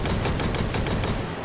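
Shotgun loaded with number two buckshot firing in the VR shooter Hot Dogs, Horseshoes & Hand Grenades, a dense burst of loud, close blasts packed tightly together with no voices.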